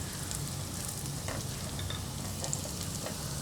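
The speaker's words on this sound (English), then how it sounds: "my garlic is slightly turning brown" Garlic sizzling and frying steadily in hot oil for a homestyle chicken curry, a close, continuous crackle with faint stirring, no talking.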